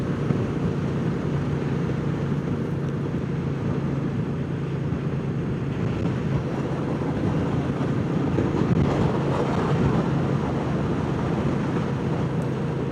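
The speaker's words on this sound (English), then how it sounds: "nice windy day again today as usual." Steady, broadband wind rumble buffeting the microphone throughout, continuous and fairly loud with no talking.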